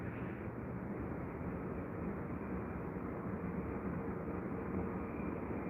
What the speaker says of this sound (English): Currently got a 777 making its way to the runway as well, just behind Virgin.